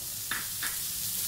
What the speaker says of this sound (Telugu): కరివేపాకు కూడా వేసుకున్నాం కదా, ఒకసారి అంతా వేపుకుందాం.